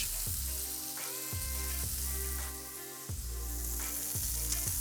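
Continuous loud sizzling of chicken frying in a hot pan, with steady crackle throughout and a droning tonal hum underneath.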